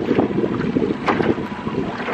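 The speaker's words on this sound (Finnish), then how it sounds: "tuhnu tuulinen, vähän sateinen keli" Wind buffets the microphone on a windy, rainy day out on the water while trolling for salmon from a boat, a steady gusty rumble with no voices.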